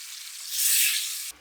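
Green onion whites stir-fried in a pan for a pork belly stew, giving a steady, close sizzle that swells briefly in the middle and then cuts off.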